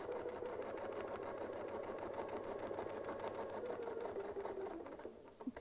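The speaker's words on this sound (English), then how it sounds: "now I'll just sew right over to the other side" A sewing machine runs in one steady, continuous stretch, stitching across a quilt with a quilting ruler attachment, its needle chattering in a fast rhythm, close and loud, with no talk over it.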